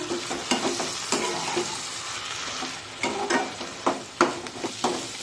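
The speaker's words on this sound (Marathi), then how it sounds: "आता 2 ते 3 मिनिटे हा घेवडा परतून घेऊया।" Boiled ghevda beans stir-fried in a pan, a steady soft sizzle broken by repeated spatula scrapes and knocks in uneven bursts, close and moderately loud.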